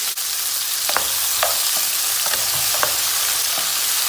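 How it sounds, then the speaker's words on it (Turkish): Mushrooms and onions fry in a pan with a constant, loud sizzle, broken by occasional stirring scrapes and clicks, and no talking. "Mantarla beraber soğanımızı ilave ediyoruz."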